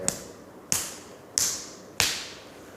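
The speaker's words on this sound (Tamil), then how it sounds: "நம்ம இந்த மணிக்கட்டு இருக்குல்ல இந்த பகுதியை வந்து தட்டி விட போகிறோம்" Four crisp, close slaps of a hand tapping the wrist during a hand exercise, spaced evenly at a steady beat about two-thirds of a second apart, heard alone without speech.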